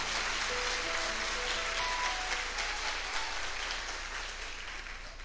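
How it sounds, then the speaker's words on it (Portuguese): Audience applause at a church service rolls on continuously at moderate volume, a broad wash of clapping that slowly fades toward the end. "Você pode, por gentileza, aplaudir o Senhor?"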